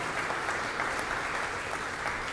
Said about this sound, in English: So round of applause again for John Duralheim and his great role here.